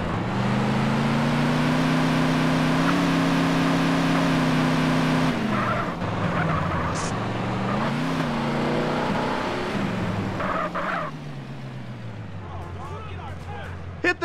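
A Toyota RAV4 small SUV in a Grand Theft Auto San Andreas mod, engine droning steadily loud and then wavering as the revs shift, with voices talking over it.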